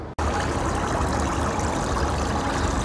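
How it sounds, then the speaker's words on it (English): Bore water sprays inside the aeration tank of an iron removal plant, a loud, dense, continuous hissing rush of falling water that starts abruptly and holds steady, close by with no voices. "this tank the water is being sprayed"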